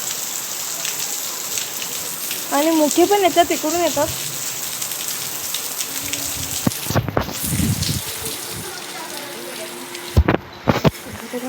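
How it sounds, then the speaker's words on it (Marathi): Steady heavy rain hisses throughout, with someone talking briefly over it and a few loud bumps near the end. "आमच्याकडे खूप पाऊस पडतोय तुम्हाला दाखवते बघा पाऊस जोराचा पाऊस आलेला आहे"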